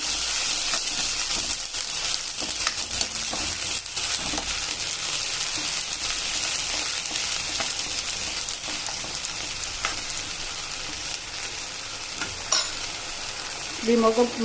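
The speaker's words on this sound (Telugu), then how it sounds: "ఈ పేస్ట్ని ఇందులో వేసుకుంటామండి. వేసుకొని బాగా ఇది వేగనివ్వాలండి ఈ ముద్దని." Masala paste of garlic and tomato fries in a pan with a dense, even sizzle, punctuated by occasional stirring clinks, close and continuous without talk.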